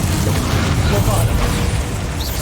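Bombarda explosion spell cast in Hogwarts Legacy, a loud, dense rumbling boom that fills the clip with sustained low blasting and debris.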